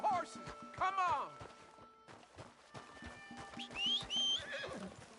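Horses in the Red Dead Redemption 2 video game whinny loudly several times while hooves clip-clop underneath, with game voices talking over the neighing and footfalls.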